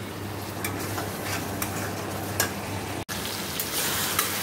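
Egg curry with cumin, coriander and chili powder sautés in a pan with a dense, crackling sizzle that stays steady throughout. A few sharper pops and a low hum sit under it, with no voices.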